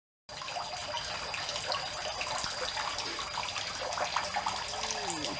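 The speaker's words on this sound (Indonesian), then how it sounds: "Dikasih air mengalir Pak Yono. Ya ini kan untuk oksigen. Oksigen jatuh." Water runs continuously into a catfish hatchery tank, a steady, hissing trickle and splash heard close and fairly faint, unbroken from start to end with no voices.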